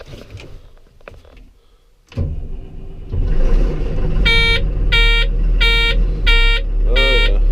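A wheel loader's diesel engine cranks and catches after a quiet stretch, then settles into a steady loud rumble, while a repeating warning beep sounds over the running engine.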